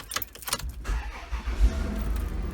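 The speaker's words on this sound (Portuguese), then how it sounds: "Olha lá, ligar o carro." A car engine cranks and catches at close range, settling into a steady low idle rumble, with a few light clicks and rattles at the start.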